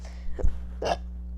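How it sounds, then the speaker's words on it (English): Two quick, throaty bursts from close by, a burp, over a faint low hum. "I just burped"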